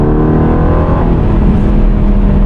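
Aston Martin Vantage F1 Edition V8 on a racetrack, revving loud and close as it accelerates, with a steady heavy engine drone throughout and no voices.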